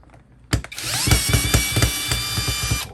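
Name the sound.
Seyvum 12V cordless brushless drill driving screw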